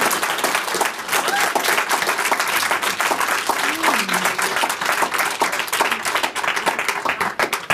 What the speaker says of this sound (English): Let's have a warm round of applause for Mara